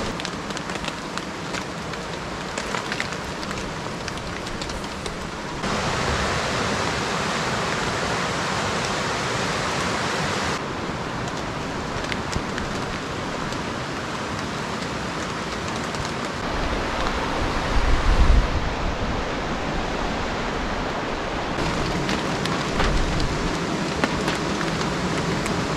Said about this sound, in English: It's pretty wet out here. I was prepared for the rain.